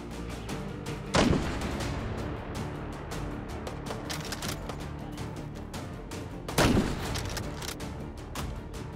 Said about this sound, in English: Somebody's throwing grenades at me.